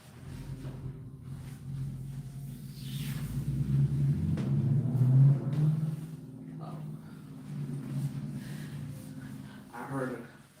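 A Ford Mustang rumbles by with a deep, truck-like engine note that swells to a peak midway and then fades, heard beneath people talking nearby.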